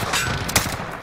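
Gunfire in Call of Duty on Rebirth Island, a few loud broadband shots cracking out at irregular moments over continuous game ambience, with one burst near the middle and another at the end.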